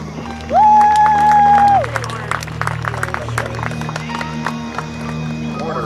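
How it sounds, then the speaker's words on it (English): Spectators at a naval air station air show applaud and cheer across an open field, a scattered, ongoing patter of clapping under a loud public-address voice, with a sustained electronic tone at first. "Give yourselves a round of applause."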